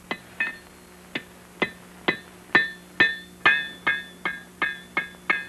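Hammer blows forging iron at an 18th-century gunsmith's forge, shaping the metal's grain: about a dozen sharp, ringing metallic strikes in a steady rhythm, close and loud, with no talk.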